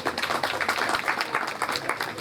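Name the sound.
audience applause, clapping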